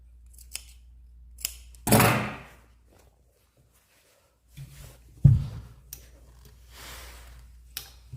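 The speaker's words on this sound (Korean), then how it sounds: "곡선이 심한 이 부분은 가위밥 주시고." Scissors snip notches into the sharply curved edge of a fabric pattern piece for a sailor-collar dress, giving a few crisp, separate cuts with quiet pauses and light handling noises between them.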